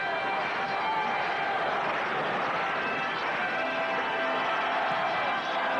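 Large arena crowd at McNichols Arena in Denver during an indoor arena football game, a dense, steady wash of cheering and rhythmic clapping filling the whole stretch before a kickoff.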